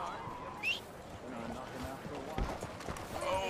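A horse's hooves clip-clop in Red Dead Redemption 2. The hoofbeats are a light, uneven rhythm under game ambience, with a few brief sharper knocks and faint whistle-like tones.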